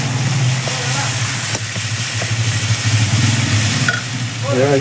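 Ginger paste sizzling in a hot pan, a steady close hiss over a low background hum, with a brief voice near the end.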